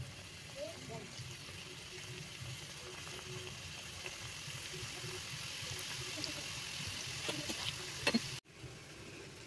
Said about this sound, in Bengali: ছোট ছোট সিঙ্গাড়া সব তৈরি করে ফেলেছি। এবার ভাজার পালা।